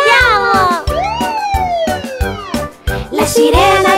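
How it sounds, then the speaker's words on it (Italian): Ambulance siren in a children's nursery rhyme, its wailing rising and falling tones sounding loudly and continuously across the whole stretch, with musical accompaniment underneath. "La sirena dell'ambulanza fa uu, uu, uu, uu, uu."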